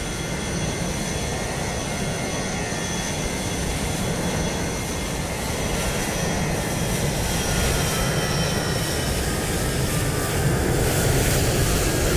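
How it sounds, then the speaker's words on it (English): An airliner departs in Microsoft Flight Simulator 2020, a loud continuous engine roar with whining tones that holds steady and swells slightly toward the end. "Here goes the Stansted flight."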